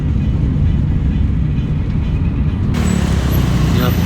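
Dense road traffic on a busy street in central Jakarta, a steady loud low rumble of many car engines heard from close by without a break, growing brighter and busier toward the end.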